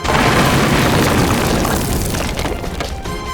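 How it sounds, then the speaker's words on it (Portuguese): A violent crash of a house door being smashed down, sound effect: a loud, booming impact of splintering wood that rumbles and slowly decays, with no voices. "A porta da casa foi totalmente derrubada com uma força brutal"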